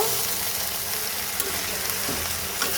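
Spices including turmeric and coriander powder fry and sizzle with bottle gourd in a pan, a dense, steady hiss with faint stirring scrapes throughout, close and without talk.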